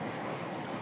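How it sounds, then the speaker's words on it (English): Jet aircraft passing overhead above an outdoor high school field hockey all-star game, a broad steady roar filling the short moment without clear talk. "The jet flying over us."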